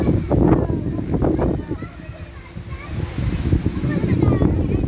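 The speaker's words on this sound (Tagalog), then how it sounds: "Lakas ang hangin." Strong gusty wind carrying dust buffets the microphone in loud, rumbling bursts that ease briefly in the middle, then build again.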